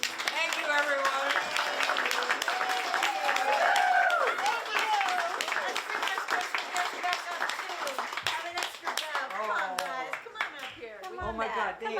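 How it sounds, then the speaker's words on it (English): An audience at a live poetry reading during the FisherPoets Gathering bursts into sustained clapping and applause, dense and steady for several seconds before thinning toward the end, with voices mixed in. "One more round of applause for them."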